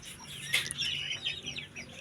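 Chicks of native village chickens (ayam kampung), unevenly sized hatchlings, chirp continuously in a close cluster of high, overlapping peeps with no talking.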